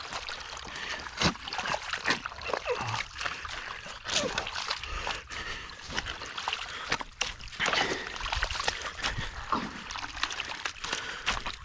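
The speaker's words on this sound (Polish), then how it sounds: "Ej, teraz woda pójdzie." Water pouring and splashing out during a granulated lime unloading job, a steady rushing flow with irregular splashes and knocks throughout, fairly close.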